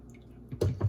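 Broth drips and drains into a bowl held close beneath another bowl, a brief run of wet splashes in the final half second after near silence.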